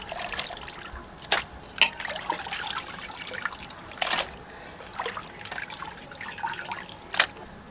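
Pieces of mutton are swished and rinsed in a vessel of water two or three times, giving soft trickling, dribbling splashes with a few sharper sloshes standing out at intervals, close by and without talk.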